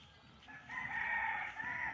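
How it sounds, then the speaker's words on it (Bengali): A rooster perched on a roof crows one long, drawn-out call that swells midway and holds strongly to the end, heard alone without voices. "মোরগ চালের উপর উঠে ডাকছে"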